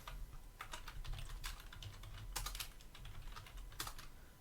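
Close, quiet typing on a computer keyboard runs steadily for several seconds, with irregular bursts of key clicks as names are entered in a Linux file, and nobody speaks.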